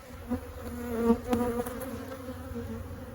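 Agitated honey bees drone around an opened single brood chamber hive, a close, steady buzz with several individual bees swelling louder as they pass near.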